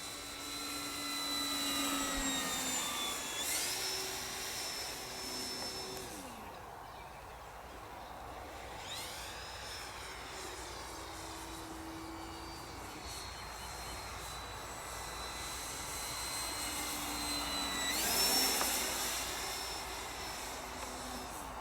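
A Turbo Timber RC model plane with an electric motor on a 3S 2300 battery flies overhead, its whining motor rising and falling in pitch as it passes near and away, with quieter stretches between passes.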